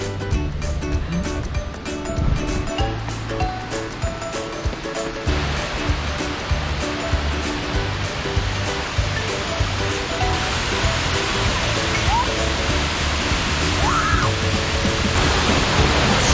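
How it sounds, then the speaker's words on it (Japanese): Shiraito Falls near Mount Fuji, a steady broad rush of falling water and spray that grows louder toward the end, with low rumbling tones and faint voices underneath. "白糸の滝着きました。"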